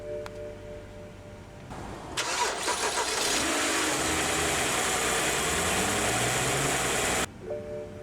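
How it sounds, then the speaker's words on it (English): A 2011 BMW 328i sedan is started by push button, with a short starter crank followed by the engine catching into a loud flare of revs that settles into a steady idle, then cuts off abruptly. "let's go ahead and start the engine"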